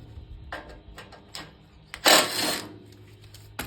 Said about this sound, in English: I got two bolts up here, so go ahead and pull those out.